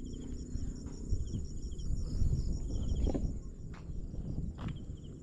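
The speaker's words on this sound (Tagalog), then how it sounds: "ang tawag doon, kuliglig ba yan? Yung may ingay na yan." Steady high, pulsing cricket chirps repeat throughout over a low outdoor rumble, with a few soft thuds and rustles nearby.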